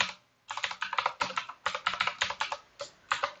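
Fast, close keystrokes on a computer keyboard as git commands are entered, arriving in uneven bursts of crisp clicks after a short pause, with no voices.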